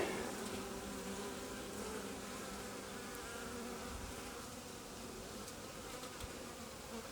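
A colony of honey bees in an opened Alpine-style beehive drones with a constant, dense buzz up close, steady throughout with no voices.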